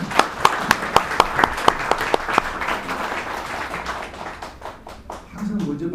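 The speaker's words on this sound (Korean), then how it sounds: "항상 먼저 박수를 쳐주시고" Audience applause at a church assembly lecture, starting with a run of sharp distinct claps that soon blur into a steady, loud wash of clapping, which thins and fades toward the end.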